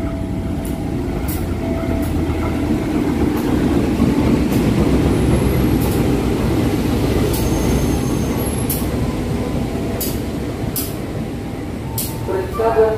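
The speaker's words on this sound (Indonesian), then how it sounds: "Masuk di jalur 1 kereta api lokal tujuan akhir stasiun Merak." A local train bound for Merak pulls in on track 1 of a small station, a steady loud rumble of wheels and carriages with brief high squeals and a rising pitch near the end, under a station announcement.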